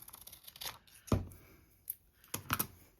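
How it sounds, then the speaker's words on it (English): Scissors snip through brown kraft paper tape in a few sharp, separate cuts, close up with quiet pauses between them and no talking. "So I'm gonna find my scissors. There they are, and I'm gonna do my best to straighten this out now that I've ripped it."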